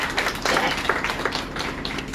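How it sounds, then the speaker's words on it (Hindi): A congregation at an outdoor street worship gathering of Bethel Prayer House claps together in thanks, sharp close claps sounding densely and steadily over a noisy background for about two seconds. "ताली बजा के धन्यवाद करते हैं"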